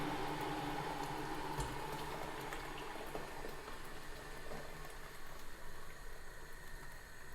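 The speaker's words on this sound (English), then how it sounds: "Right, adding water now. Boiling water goes in." Boiling water poured from a kettle onto rice makes a steady, faint bubbling and splashing rush that thins slightly as it goes on, with no talking.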